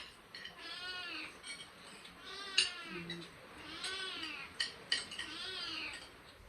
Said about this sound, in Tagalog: May sorry sa background ng umiiyak na pusa.